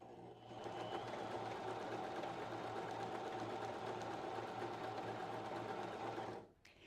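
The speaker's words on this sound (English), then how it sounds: "as we sew, what we're going to see is the stitch is going to go 2 stitches forward, 1 stitch back" A bernette b33/b35 sewing machine runs a triple straight stitch, a fast steady mechanical whir that starts, holds evenly for about six seconds, then stops abruptly, no voice over it.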